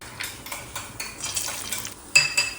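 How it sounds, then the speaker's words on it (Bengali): Cashews and raisins lightly frying in a pan as a spoon stirs and scrapes them, with a soft sizzle under close, repeated stirring strokes and no talking. "এখানে কাজু আর কিশমিশটাকে হালকা একটু ভেজে নিচ্ছি"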